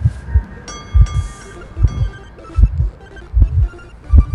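Heartbeat in the horror game Identity V, a steady, loud, deep double-thump pulse repeating about once per second, with faint tonal game sounds above and no talking.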